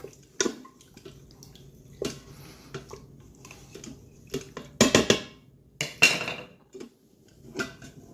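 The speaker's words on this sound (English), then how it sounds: "if you see some that are still stuck, you just go in, scrape those off" A utensil scrapes stuck short rib bits off the bottom of a pan while it is deglazed with stock: irregular clinks and scrapes, close and fairly sharp, with short pauses between strokes.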